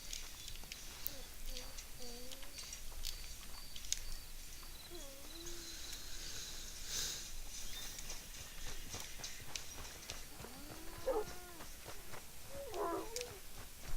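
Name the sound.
cat purring and meowing in video game Red Dead Redemption 2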